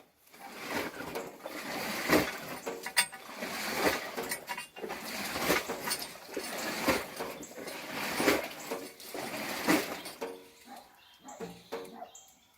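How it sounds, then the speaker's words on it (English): A laundry machine runs its wash cycle, producing rhythmic swishing agitation pulses that rise and fall roughly every second or two at moderate, close loudness. "Right now, what you're seeing here is laundry. This is the wash cycle."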